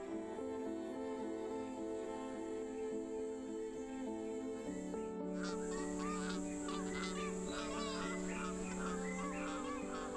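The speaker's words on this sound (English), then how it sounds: "Mallards are highly adaptable waterfowl that thrive in both urban and natural wetlands." Mallard ducks call in a wetland, a dense chorus of honking and quacking that is steady and fairly close. The calls grow busier and more overlapping in the second half.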